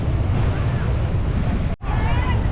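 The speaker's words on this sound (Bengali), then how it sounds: "ঢেউ কিন্তু বিশাল বিশাল ঢেউ আসছে" Loud, continuous roar of ocean waves with heavy wind buffeting the microphone, briefly cut by a short dropout near the end.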